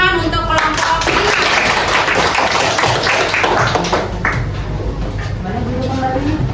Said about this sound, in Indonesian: beri tepuk tangan untuk kelompok ini